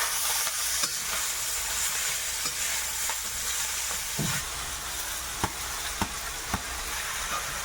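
Kalmi greens added to a hot pan with onion and garlic, sizzling and frying steadily while a utensil stirs with intermittent scraping clicks, close and continuous with no talk.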